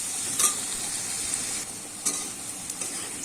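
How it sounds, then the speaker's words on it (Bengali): Potatoes frying in a pan for a Bengali jhinge aloo posto dish, a steady close hiss of sizzling oil with a few brief scraping stirs, no talking. "আমি একটু লাল লাল করে আলুটা কিন্তু ভেজে নেব"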